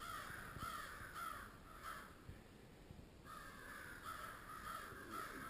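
Crows caw repeatedly outdoors near woods where an owl has flown off with a red squirrel, loud harsh calls coming in bursts over steady background noise.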